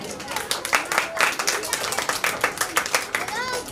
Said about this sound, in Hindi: आप लोग जोरदार तालियां बजा दीजिए।